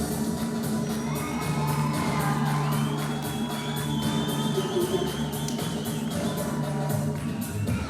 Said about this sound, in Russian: Каждый из 15 номеров зрители приветствовали бурными овациями.